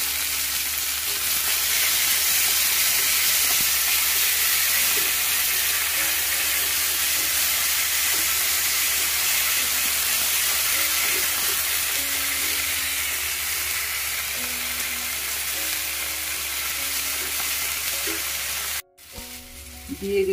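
Brinjal and tomato frying in a pan, a steady loud sizzle and hiss close up that holds throughout, with faint stirring clinks before a brief break near the end.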